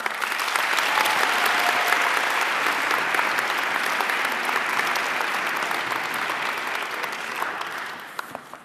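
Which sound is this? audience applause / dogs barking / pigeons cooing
audience applause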